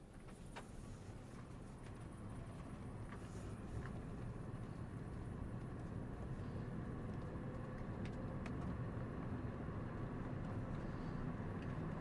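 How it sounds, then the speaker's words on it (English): A car on a short test drive along a straight road, steady muffled engine and road rumble heard from inside the cabin, constant and fairly quiet throughout. "Let's take it for a short test drive here."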